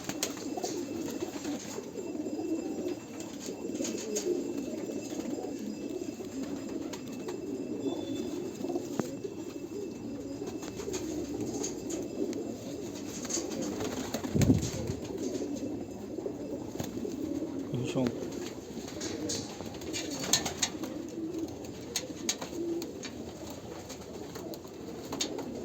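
Sialkoti pigeons coo softly and continuously in a loft, a low murmuring throb with occasional wing flutters and faint knocks in the background.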